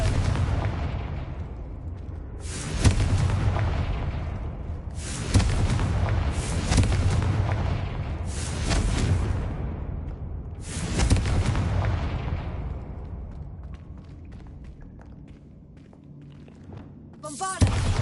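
Confringo fire spell cast repeatedly in the Hogwarts Legacy video game, heard as a series of loud, booming blasts with rushing, crackling tails, about five bursts spread over the stretch, fading toward the end.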